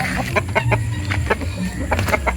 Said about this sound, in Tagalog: Nakawala naman isang manok.